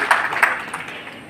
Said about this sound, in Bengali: আমরা একটা জোরে করতালি দিতে চাই তার উদ্দেশ্যে